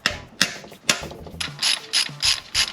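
A manual ratchet clicks in repeated bursts while a 1992-95 Honda Civic engine is taken out for a swap, sharp close ratcheting strokes in a steady back-and-forth rhythm with no talking.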